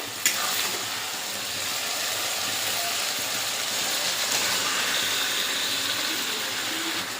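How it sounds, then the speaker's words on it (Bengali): Marinated meat goes into a fried, oil-separated spice paste for a home-style biryani, giving a steady, even sizzle throughout, with a small clack near the start and no talk. "এবার মাংসটা ম্যারিনেট করে রেখে দিয়েছিলাম এখন মাংসটা দিয়ে দেবো"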